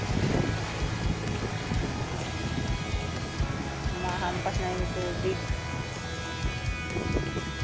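Steady gusting wind buffeting the microphone outdoors in Hong Kong in April, a continuous rough rumble with people talking faintly underneath.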